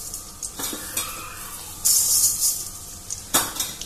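Mustard seeds tempering in hot oil in a pan, with a continuous crackling sizzle marked by several sharp metallic scrapes and clinks from stirring.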